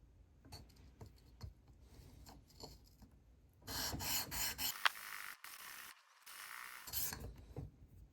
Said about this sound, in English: I'm gonna take some finer sandpaper, make sure that this is nice and